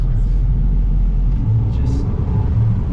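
Heard from inside, an old taxi car in Monteria, Colombia rumbles along with a low, steady engine and road drone, while a person talks over it.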